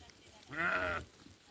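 A single sheep bleats once, fairly close, a short wavering call amid quiet outdoor background noise.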